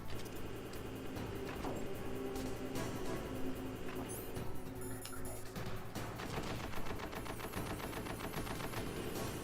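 Rapid gunfire and explosions from a tank battle in the Metal Gear Solid video game, a dense continuous barrage of shots and rumbling blasts heard fairly faint throughout with no voices over it.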